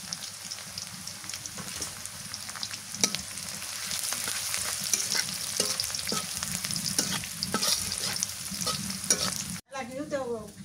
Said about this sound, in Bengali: তেজপাতা দিয়ে নিলাম, লং দিলাম, দারচিনি, একটা বড় এলাচ, 4-5টা ছোট এলাচ